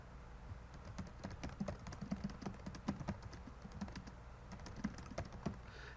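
Typing title text on a computer keyboard in Microsoft Word 2013, quick close key clicks in an irregular rhythm that continue throughout, faint and alone.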